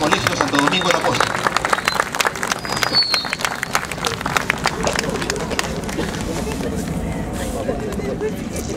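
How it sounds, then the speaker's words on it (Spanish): Audience applause at a school event, with sharp, busy clapping from a crowd in the first half that gradually thins and softens into a murmur of voices and background noise. "Aplausos."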